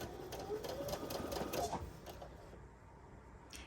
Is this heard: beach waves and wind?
no